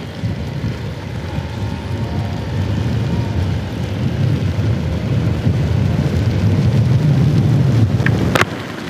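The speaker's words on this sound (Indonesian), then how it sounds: "Ini lebih gerimis-gerimis nih." Light drizzle falls in a continuous, even patter over a low rumbling background, with a brief sharp click near the end.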